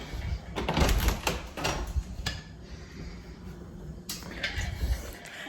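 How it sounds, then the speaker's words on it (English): A door at home is opened near the guest room, heard as several close knocks, clicks and handle rattles scattered through a few seconds of domestic noise. "And get the door open."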